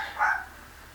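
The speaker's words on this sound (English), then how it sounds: "Excuse the dog barking." A single dog bark indoors, fairly distant and faint, one short burst in an otherwise quiet room.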